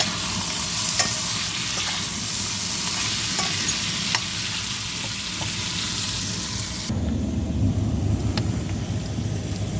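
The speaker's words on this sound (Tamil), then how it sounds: "எண்ணெயில் கொஞ்சம் வதங்கட்டும்." Raw papaya sautéing in oil sends up a steady, close sizzle with light spatula scraping that cuts to a lower, rumbling fry for the last few seconds.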